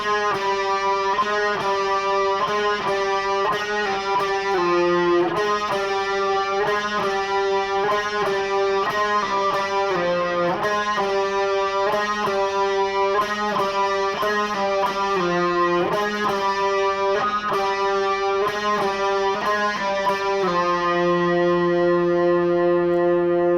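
A distorted electric guitar plays a repeating melodic riff with steady sustained notes, cycling several times before ending on a long ringing chord.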